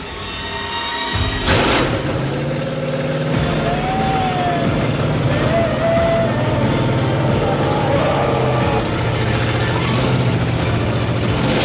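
A blower-equipped race car engine cranks, fires with a sharp bang and settles into a loud, continuous rumbling run close by, its pitch rising and falling as it is revved.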